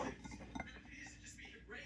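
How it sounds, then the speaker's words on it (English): A whisk beating ingredients together in a bowl while making lemon brownie bars gives quiet, quick clinks and scrapes against the bowl. "And I'm gonna whisk it together."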